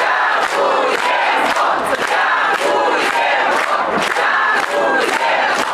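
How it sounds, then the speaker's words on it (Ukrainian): A crowd in Chernivtsi region greets a former Ukrainian president, Petro Poroshenko, with loud, sustained cheering and rhythmic chanting, pulsing in regular bursts of about two per second. "Чернівецька область зустрічає п'ятого президента оплесками і співами."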